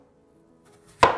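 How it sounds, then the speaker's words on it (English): A single sharp knife chop through an apple at the end, near and fairly loud, after a quiet stretch with a faint low hum. "Cut the apple in half"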